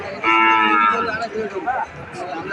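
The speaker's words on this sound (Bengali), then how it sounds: "খামার উপযোগী যে গরুগুলি দেখছি এখানে" Cattle low loudly and close by at the Ambari livestock market in Dinajpur district, Bangladesh, where calves of Sahiwal and other breeds are for sale; one long, sustained moo is followed by a quieter, rougher call.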